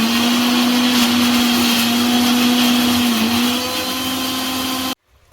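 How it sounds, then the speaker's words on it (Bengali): An electric blender purees tomatoes into paste in a home kitchen, a loud steady whirring hum that holds for about five seconds before cutting off abruptly. "টমেটোটা পেস্ট করবো।"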